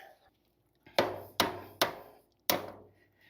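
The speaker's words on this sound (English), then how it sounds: "Need my hammer." Four loud, sharp hammer blows ringing out close by during a 1956 Chevy truck suspension install, three in quick succession then a pause before the last, each decaying quickly into silence.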